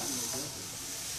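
Steak sizzling on a Lean Mean Grilling Machine contact grill, a steady close hiss of searing meat that runs without a break for about a second.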